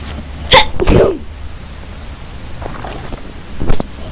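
One sharp human sneeze lands near the start, followed by a quieter breathy sound and faint room noise, heard close and alone without talk.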